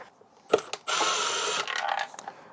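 A ratchet works loose the mounting bolts on a Honda EU2000i generator: a couple of sharp clicks, then a steady close ratcheting whirr for about a second, trailing into lighter clicks.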